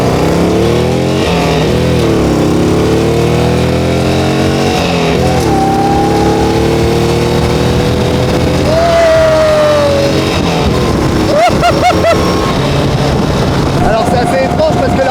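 A Morgan car's engine revving and accelerating, loud and close with rising and falling pitch sweeps, while people talk over it throughout.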